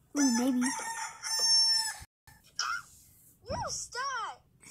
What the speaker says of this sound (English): Rooster! Stay away from me!